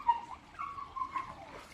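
A dog whimpers softly in a few thin, high whines, close and fairly quiet, outdoors on a fenced plot of land.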